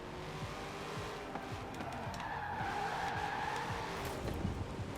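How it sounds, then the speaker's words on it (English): A Corvette ZR1 in Forza Horizon 4 drifts with a sustained tire squeal and skid over a steady engine drone, continuous and close for a few seconds. "I can just drift over there a little bit"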